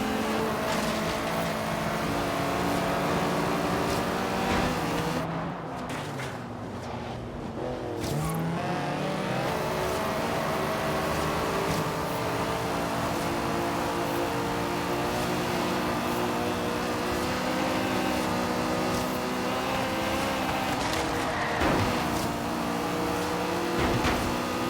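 Car engines roaring in a Forza Horizon street race, among them a Porsche Cayman and a Mercedes A-Class, with a loud, sustained drone of revving and shifting, a brief dip and gear change midway before the howl resumes.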